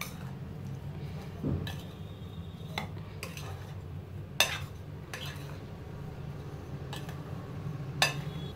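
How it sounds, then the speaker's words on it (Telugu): Fried gooseberry pieces and garlic cloves mixed into an amla pickle: soft stirring in a metal vessel with a few sharp spoon clinks against the rim, quiet and close, no speech. "వేసుకొని ఒకసారి మిక్స్ చేద్దాము."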